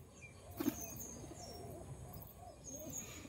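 High-flyer racing pigeon, a rain-dampened bird handled up close, giving a few soft, low cooing calls that are fairly faint against quiet background noise.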